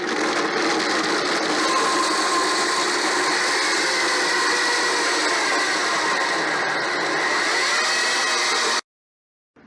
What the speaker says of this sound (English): I'm using a BlendTech blender